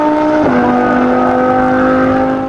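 Turbocharged modified VW Golf engine revving hard while racing a Lamborghini Huracan, a loud, close, sustained roar whose pitch drops once at a gear change and then holds steady.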